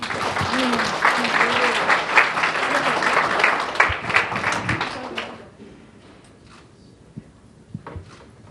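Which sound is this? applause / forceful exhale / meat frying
applause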